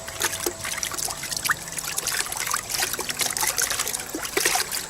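Cold water splashes and trickles as a rabbit hide is rinsed in a bucket during alum tanning, a steady close wet sloshing with scattered droplets and no talking.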